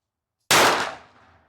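A single sharp handgun shot, fired with light home-loaded rounds from a cheap Saturday night special pistol, cracks loudly after a moment of silence and fades over about a second.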